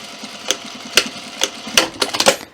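A sewing machine stitches a zipper fly extension across with right sides together at a quarter-inch seam allowance, giving a series of sharp, irregularly spaced mechanical clicks and short whirs, close and alone with no talk.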